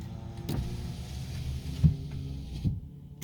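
A car's electric rear windows rolling up, a low motor whir with a few soft thumps and clicks as the glass travels and seats, heard close inside the vehicle.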